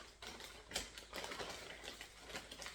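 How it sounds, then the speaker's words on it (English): A finished cross stitch piece is handled inside a plastic bag, giving quiet, rapid crinkling and ticking rustles that run on continuously, faint and close. "I'm sorry for the noise. I've got it in this plastic bag."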